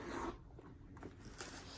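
Zipper on the pocket of a Gucci handbag, a short soft zip pulled alone at close range, quiet and brief with a scratchy rasp.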